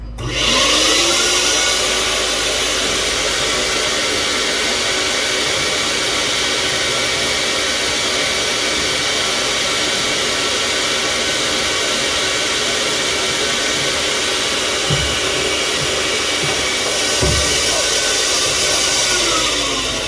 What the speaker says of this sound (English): We're going to let the auger shaft run empty right now.